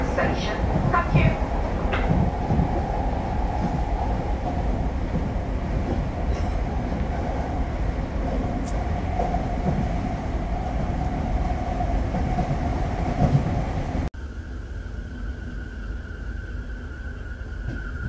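A Merseyrail Class 507 electric train runs along the line with a steady, close rumble and the clatter of its wheels. An onboard announcement plays over the noise, and the sound shifts abruptly near the end.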